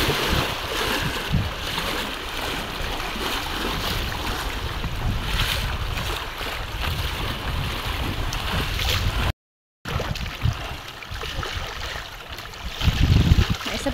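Small bangka boat on murky water, with a steady broadband wash of water and engine or wind noise throughout and a brief dropout near the end.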